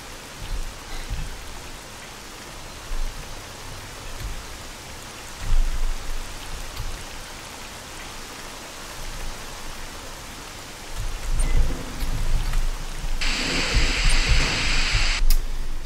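Steady rain pours down in the video game S.T.A.L.K.E.R.: Call of Pripyat, a dense hiss of drops on surfaces that swells louder toward the end, with no voices.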